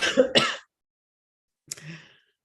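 A single person coughs twice in quick succession, close and fairly loud, then after a pause gives one more shorter cough-like throat clearing, with no talking.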